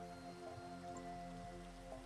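Rain falls in a soft, steady, distant patter that stays constant throughout, with a faint tonal hum underneath and no voices.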